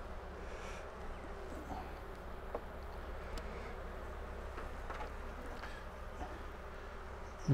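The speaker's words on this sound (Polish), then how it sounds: "pszczoły się trochę denerwują." Steady, dense buzzing of many agitated honeybees close by at a hive after winter, a continuous agitated hum with faint higher whines throughout.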